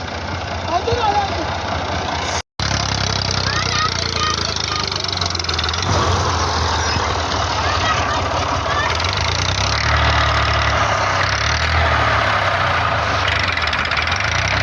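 A tractor engine rumbles low and steadily throughout, idling with a heavy throb while the tractor is stuck hauling soil, as people talk over it; a brief dropout cuts the sound near the start.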